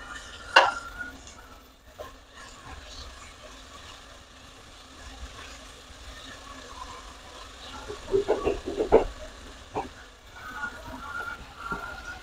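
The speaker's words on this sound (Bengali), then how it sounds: "ঢাকনাটা উঠিয়ে দেবো, নাড়া দিয়ে নেবো।" A spoon stirs tilapia curry with potatoes and spices in a pot, giving a few soft scraping and clinking bursts near the start and around the middle against a quiet background.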